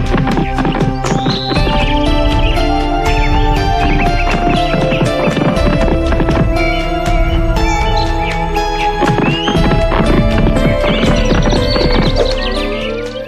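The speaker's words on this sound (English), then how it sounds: "rode his horse up the hill again." Loud, steady clip-clop of horse hooves galloping throughout, with a horse whinnying briefly, all set against a busy musical score.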